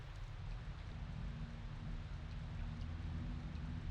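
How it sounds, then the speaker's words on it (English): An acid rain spell in the Secret of Evermore video game pours as a steady, dense rain-like hiss and patter with a low rumble underneath, continuous and loud without any break. "Ah, acid rain. That's that spell that the boss Thraxx just used on us"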